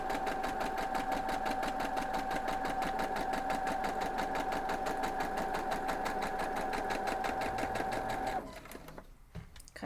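A sewing machine stitches a card trick quilt block in a fast, even, continuous run at close range, then stops near the end, leaving a few small handling clicks.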